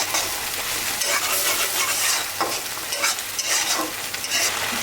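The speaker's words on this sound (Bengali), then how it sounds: "মশলাটা কষালে খেতে ভালো লাগবে" Garlic paste, ginger paste, turmeric and chili powder fry in a pan under a loud, constant sizzle, with brisk scraping strokes of a spoon stirring the spices close by; no one speaks.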